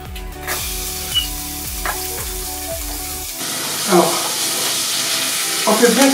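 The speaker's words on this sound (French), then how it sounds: "Alors, on fait bien caraméliser notre os" Chicken thigh bone caramelizing in a hot pan, a steady loud sizzle with crackling bursts, opening over a low rhythmic hum that cuts out midway, leaving bright spattering frying alone.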